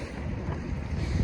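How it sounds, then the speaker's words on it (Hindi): Strong wind blowing across an open rooftop before a storm, a steady low rumbling roar with gusty buffeting against the microphone, continuous and close, with no talk. "और बहुत तेज हवा चल रही है।"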